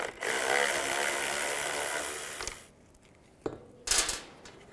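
Power tool with a T30 socket spinning out the window motor bolts inside the front driver's door of a 2011–14 Chrysler 200: a loud sustained whir for a couple of seconds, then a few sharp metallic clicks and clanks.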